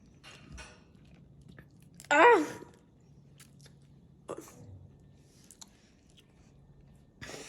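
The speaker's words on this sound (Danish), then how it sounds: "Og jeg tager en bid her." A single loud crunchy bite into food near the microphone, followed by softer chewing, while people talk around it during a Rocket League gaming session.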